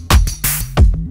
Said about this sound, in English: without maximize, the drums sound like this